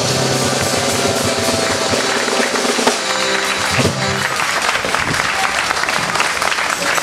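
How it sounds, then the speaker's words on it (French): Loud, dense applause from a festival crowd at the November 2013 Hareng Roi herring festival, cheering the sailors' queen; sustained clapping fills the whole stretch with some tonal music and voices mixed in. "C'est la reine des marins. Faut l'applaudir."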